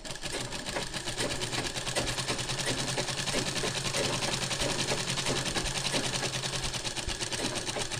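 A sewing machine stitches a kubasa blouse with a continuous, fast, even mechanical whirr and rattle that holds steady throughout, with no talking.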